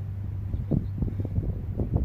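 Gusty wind buffets a microphone outdoors on a dusty, pollen-filled day, where an engine short block is being assembled. The low rumble of wind noise runs steadily throughout, swelling in a few stronger gusts.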